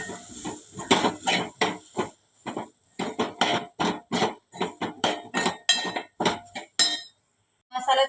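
Rhythmic metal clinks of a spoon stirring vegetables with turmeric, sabzi masala and red chilli powder in a pan, sharp close scrapes and taps repeating steadily, with no voices.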